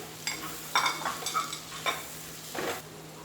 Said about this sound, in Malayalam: ഇനി ഇതിലേക്ക് നമ്മുടെ തക്കാളി കൂടെ ചേർത്തിട്ട് നന്നായിട്ട് ഇളക്കിയിട്ട് ഒന്ന് അടച്ച് വെച്ച് കുക്ക് ചെയ്യുക